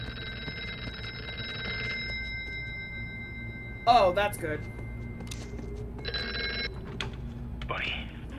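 A telephone bell rings in the horror VR game Here They Lie. One long ring is followed later by a shorter one, both fairly clear over a low ambient hum, and someone speaks briefly in between.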